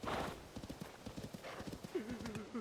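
Horse hooves clip-clop in a Zelda video game, a quick run of hoofbeats followed by a rising neigh, with talk alongside.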